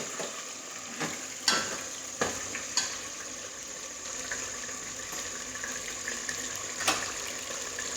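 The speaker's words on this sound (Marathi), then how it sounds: "मसाला आपला थोडा परततोय" Masala for a mutton curry sizzling and frying in a pan, a steady close hiss with occasional sharper clicks and spatters as it is stirred, continuous throughout with no talking.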